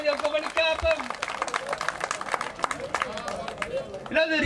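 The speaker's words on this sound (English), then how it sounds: "give yourselves a round of applause, please" Audience applause at a fishing competition weigh-in, a dense round of clapping with crowd noise and talk mixed in throughout.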